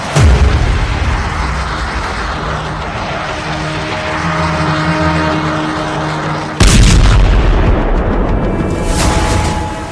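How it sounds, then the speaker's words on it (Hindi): A missile attack strikes West Jerusalem and Beit Shemesh near Tel Aviv, with a loud sustained rumbling roar and a sudden heavy blast partway through, followed by continued booming noise. "पश्चिमी यरूशलेम में मिसाइल अटैक, तेल अवीव के करीब बेत शेमेश में हमला।"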